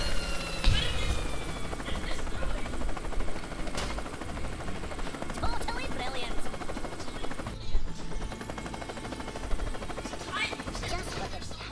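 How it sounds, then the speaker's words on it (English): Helicopter in the Worms W.M.D video game, a loud continuous rotor drone with sharp bursts of gunfire-like impacts layered over it, while a voice talks throughout. "Very angry helicopter."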